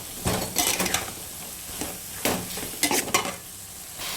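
Raw jackfruit pieces tossed with masala in a pan, a spoon scraping and stirring in a few separate bursts over a quiet sizzle, with brief clinks against the pan and no talk.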